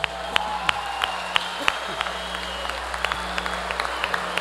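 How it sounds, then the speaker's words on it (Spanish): Crowd applause for two boxers at a boxing event, Michael Hunter vs Miguel Cubos, with sparse, scattered claps over a steady hall hum. "Fuerte el aplauso para ellos."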